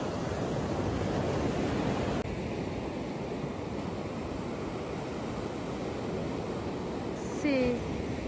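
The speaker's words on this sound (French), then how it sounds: "il y a des belles vagues" Ocean waves break on a beach in a steady broad rush of surf mixed with wind buffeting the microphone, continuous and fairly loud, with a brief whistle-like sound near the end.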